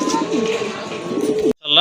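Fancy pigeons in a breeder's loft coo in low, throaty rolling calls close by, with a brief break and another burst of cooing at the end.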